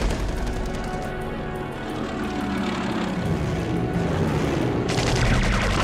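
Dense wartime air battle din with continuous roar of propeller fighters such as ME-109s and rattling gunfire, loud and sustained, growing harsher toward the end, with no talk.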